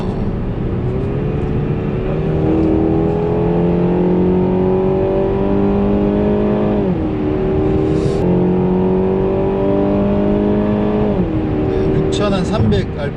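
A Renault Samsung SM6 (Renault Talisman) sedan in manual mode, its engine climbing steadily in pitch toward about 6300 rpm before a gear change drops it, repeated twice, with a person speaking over the cabin sound.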